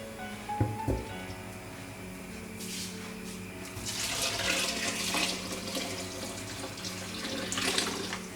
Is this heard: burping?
no